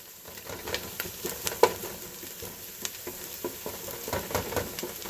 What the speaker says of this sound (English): like the way you're sauteing it